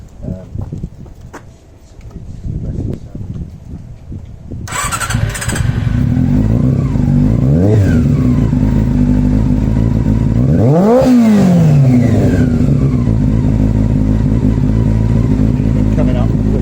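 A Honda CB400 Super Four motorcycle engine, its sting fixed, runs loud and close for most of the clip, rising and falling through several smooth revs with sweeping pitch changes, after a quieter opening.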